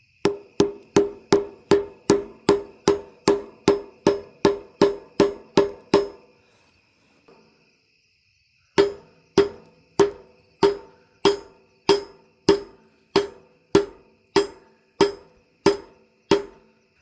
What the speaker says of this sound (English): then we're going to have to hammer it